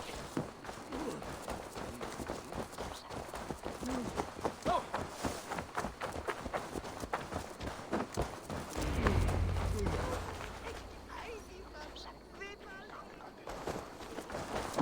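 Hooves of a horse in the Assassin's Creed Valhalla video game, a steady run of clip-clop steps under ongoing voices and game sound, followed by a low rumbling swell near the end.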